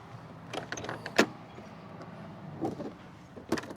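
A camper van's door is opened along with its blackout screen: a close run of clicks and latch clunks with one sharp knock near the middle, then a few softer rattles, with no talking.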